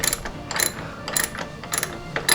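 A hand ratchet clicks in quick bursts while tightening a screw beneath a mud flap on a Tesla Model Y, close and crisp, with short pauses between each run of clicks.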